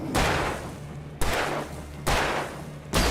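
Three loud, evenly spaced gunshots from the video game Alan Wake, each a sharp blast with a long decaying tail, close and alone.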